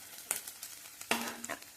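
Onions stirred while frying in a pan: soft sizzling under a few spoon scrapes and light clinks, with two sharper strokes against the pan, close up and without any talk.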